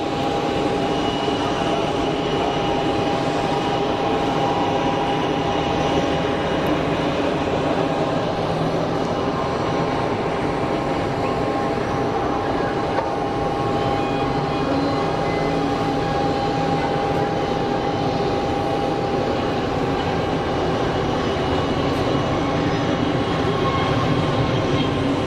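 An Airbus A320-200 airliner at Geneva Airport gives a steady, loud engine roar with a sustained whine, holding constant without pause for the whole stretch.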